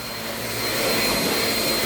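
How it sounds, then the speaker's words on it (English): A vacuum cleaner runs on the floor with a loud, steady, broadband roar that swells slightly louder partway through and is heard alone. "I'm trying to vacuum."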